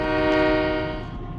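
An EMD GP9 diesel switcher locomotive sounds its air horn during switching work, a loud, steady multi-tone chord that holds for over a second and fades slightly at the end, up close with no talk.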